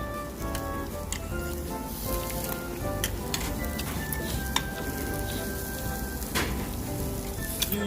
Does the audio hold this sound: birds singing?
no